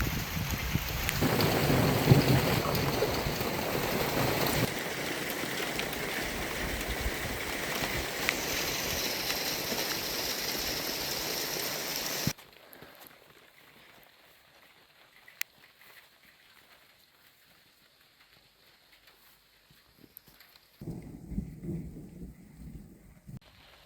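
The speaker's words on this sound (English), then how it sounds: "It's a nice drop of rain and we needed it." Steady heavy rain pours down with thunder rumbling through a thunderstorm over a farm, loud and continuous for about twelve seconds, then dropping to a quiet hush before a brief return of rumble and rain.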